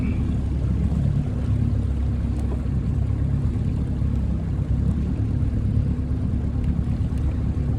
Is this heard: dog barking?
no